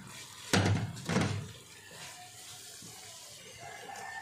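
Water is added little by little to spices frying in a pan for keema, giving two short splashy bursts followed by a quieter, steady hiss.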